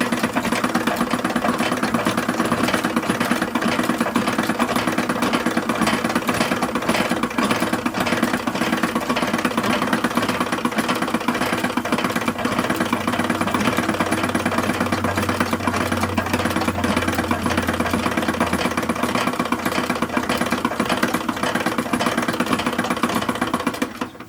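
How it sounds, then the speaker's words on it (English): A sewing machine stitches the edge of porcelain doll clothes, running in a steady continuous whir with a fast mechanical chatter throughout and no talking. "we're going to stitch it by machine"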